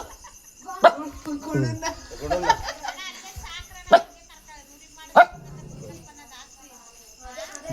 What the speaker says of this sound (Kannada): ಬಗ್ಲುತ್ತಾವಿ ನಾಯಿ